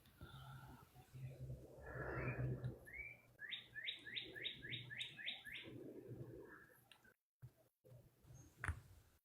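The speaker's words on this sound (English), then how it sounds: "That sounds like a pretty bird." A bird sings nearby, a quick run of bright repeated chirps in a short series, over quiet outdoor background noise.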